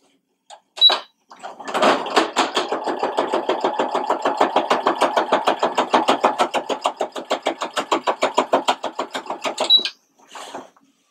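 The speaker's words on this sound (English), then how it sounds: "So I'm now sewing the bottom of the shirt. So I'm just sewing the casing." A sewing machine stitches the casing along the bottom hem of a button-down shirt being refashioned, running in one steady burst of about eight seconds with a fast, even rhythm of needle strokes, close and clear with no talking.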